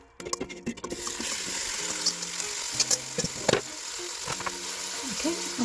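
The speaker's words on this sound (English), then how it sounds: "I'm going to just slightly fry this for 5 minutes" Food frying in oil in a pot over a low gas flame, a steady close sizzle with occasional stirring clatter and light utensil knocks.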